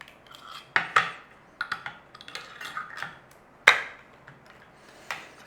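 A tin of chipotle sauce being opened by hand, with a series of sharp metallic clicks and scraping taps spaced irregularly, fairly close and clear with no talk.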